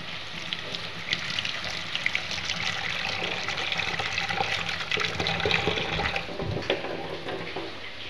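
Water pours into a pan of fish curry on the stove, a steady close rushing and gurgling that runs for several seconds with no one speaking.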